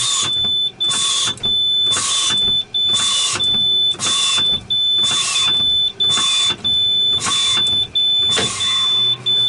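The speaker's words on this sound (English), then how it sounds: "And the valve pops out, and that completes the brake check." Truck air brakes fanned down during a pre-trip brake check: repeated sharp hissing air releases in a steady rhythm, about a dozen close, loud bursts with short gaps, no talk.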